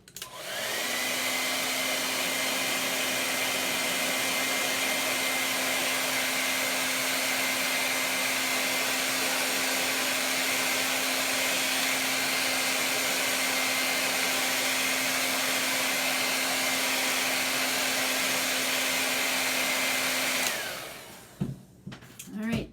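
A heat tool or hair dryer runs in a steady, loud whoosh with a constant whine while drying chalk paste on a vintage truck craft project, cutting off abruptly near the end.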